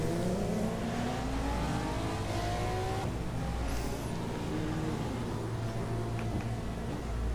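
Touring car engine from a 1994 Asia-Pacific Touring Car Championship round in the racing game GTR2, revving and rising in pitch through several sweeps, loud and close, with no talk.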